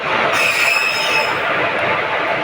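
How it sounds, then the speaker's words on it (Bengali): A train rumbles through Santragachi station, close and loud, with a steady roar of wheels on rail and a thin high squeal riding over it. "তা আমরা এখন আছি সাঁতরাগাছি স্টেশনে।"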